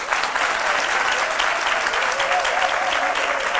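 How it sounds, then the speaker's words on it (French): A studio audience made up of a women's association applauds at a midday TV talk show, a dense, steady wash of clapping that fills the whole stretch with no break. "que je vous demande d'applaudir."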